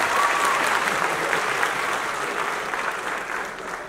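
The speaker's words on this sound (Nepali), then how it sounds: "हामी सबैले सम्माननीय प्रधानमन्त्री केपी शर्मा ओलीलाई ताली बजाएर अभिनन्दन गरौँ।" Audience applause for Nepal's Prime Minister KP Sharma Oli at a public stage event, a dense, sustained wash of many hands clapping that holds steady and loud throughout, with a murmur of crowd underneath.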